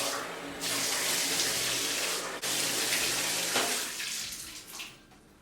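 Tap water gushes loudly nearby while a foot is washed, a steady rushing stream that briefly breaks, resumes, then tapers off and fades near the end.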